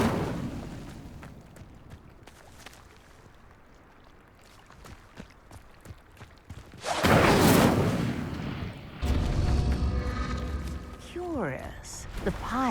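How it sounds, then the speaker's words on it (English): A burst of magical fire, the Incendio spell in Hogwarts Legacy, roars loud and broad as flames engulf a pyre, following quieter game ambience; a second fiery whoosh and swirling magical tones come after. "The flames make the pyre sink."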